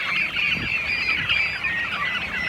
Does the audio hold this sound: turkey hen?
yes